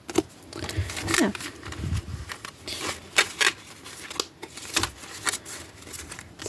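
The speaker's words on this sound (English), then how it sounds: "Let's see if I can shuffle these." Tarot cards from a Witches Tarot deck being shuffled by hand, a series of quick papery riffles and soft slaps in irregular bursts, close and moderately loud, with occasional faint voice sounds in the background.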